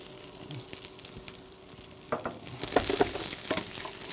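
Chopped prosciutto fries in an oiled pan with a soft, crackling sizzle that grows busier partway through, punctuated by a few sharp pops and stirring scrapes, close and without talk.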